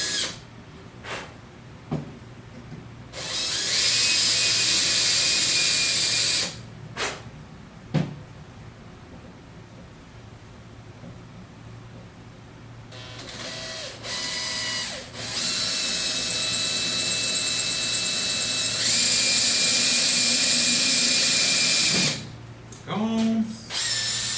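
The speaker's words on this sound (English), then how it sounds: "I'm just going to use the 1/8 inch drill bit." A power drill with a 1/8 inch bit whines in several bursts while drilling car differential parts, some short and some sustained for several seconds, with quiet pauses and light handling noises between runs.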